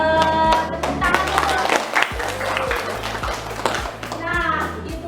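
A group of schoolchildren in a classroom clapping hands together in a steady, rhythmic pattern, close and loud, with children's voices chattering over the claps.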